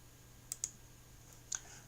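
A computer mouse gives a few crisp, quiet clicks: two close together, then another pair a second later, in an otherwise quiet room.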